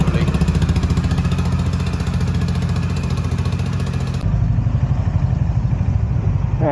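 A motorcycle engine runs nearby at a steady, throbbing idle with a regular low pulse, and the tone shifts slightly partway through. No one speaks.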